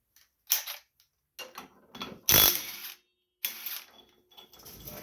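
Ratchet working a 16 mm pulley bolt loose on a John Deere LA105 riding lawn mower, in several bursts of close clicking and rasping separated by short pauses, one louder sustained burst in the middle.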